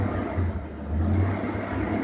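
A 1969 Chevy C10 truck engine runs with a steady, deep rumble that swells slightly in a brief, gentle rev, with no talking.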